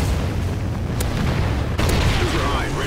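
A Trinity rocket strike explodes in the video game Call of Duty Ghosts, with heavy booms rising out of a loud, continuous wash of battle noise.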